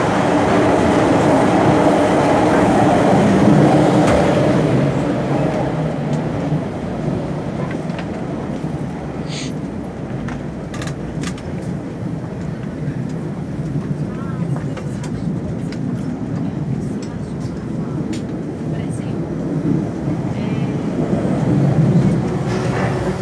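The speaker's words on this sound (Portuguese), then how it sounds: "Vou tentar passar por dentro dos vagões aqui." Inside a passenger train travelling from Ipatinga to Belo Horizonte, a loud continuous rumble and rattle of the rail cars fills the space, with scattered clicks and knocks as someone walks between carriages.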